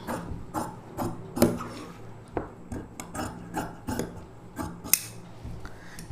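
Scissors cut lehenga lining fabric along a marked shape, giving repeated soft snips and rasping blade strokes at a steady, uneven rhythm, close by and moderately quiet, with no speech.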